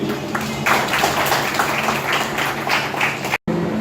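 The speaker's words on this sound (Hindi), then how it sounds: "खूबसूरत तालियां आप सब के लिए" Audience applause at a school position-holder ceremony in Bhimber, a dense steady wash of clapping hands that continues throughout, broken by one brief dropout near the end.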